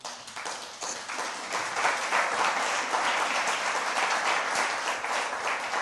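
A church congregation applauds, a dense, steady wash of clapping that holds for several seconds at moderate volume.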